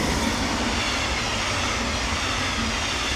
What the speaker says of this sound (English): Bloody trains.